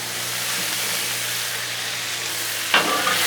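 Shrimp, peas, carrots and onions sizzle steadily on a Blackstone griddle, a dense, even frying hiss with one sharp spatula scrape near the end.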